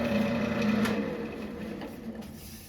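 A scraper shaves a small maple bowl spinning on a lathe, a steady close rasping hiss over a constant mechanical hum, with no pauses.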